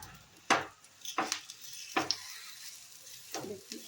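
White oil is drizzled onto a hot pan while making mango patishapta, giving four or five sharp bursts of sizzle spaced about a second apart, each fading quickly into quieter crackling.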